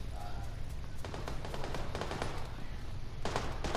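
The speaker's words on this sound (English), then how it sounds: "Oh, I hear lots of gunfire." Rapid bursts of distant automatic gunfire from the PUBG battle royale video game, a steady rattling stream of shots continuing across the whole few seconds at moderate level.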